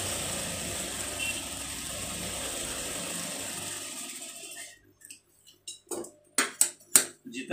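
A sewing machine runs at reduced speed stitching a fine zigzag along a salwar hem, a continuous whirring for about five seconds, then stopping into a few sharp clicks and taps.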